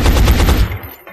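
Rapid burst of gunfire from the video game XCOM Enemy Unknown, loud and close, with about five quick regular shots in a row that fade out after roughly half a second.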